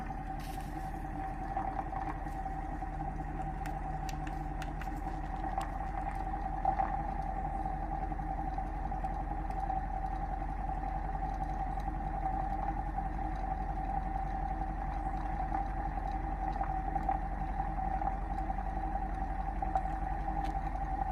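A homemade magnetic switching motor driven through a PWM controller at 50 volts, running near 715 RPM, gives a steady, even mechanical hum with a constant whine and no pauses, alone and close by.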